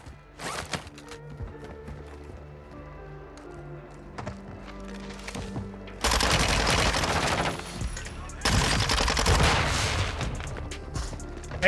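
Gunfire in Warzone 2.0 on Ashika Island, starting with scattered distant shots under talk, then loud sustained bursts of automatic fire in two long volleys, with voices speaking throughout.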